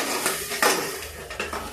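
Hot garlic tadka goes into cooked arhar dal in a kitchen pot, giving a soft sizzle along with metal utensil clinks and scraping against the pan, with no one speaking.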